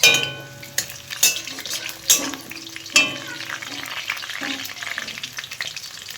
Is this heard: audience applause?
no